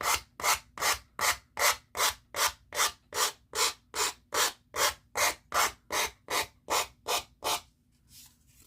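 Rhythmic hand sanding along the edges of vintage wooden decor, about sixteen even back-and-forth strokes, close and loud, with no speech, ending in a brief faint rustle.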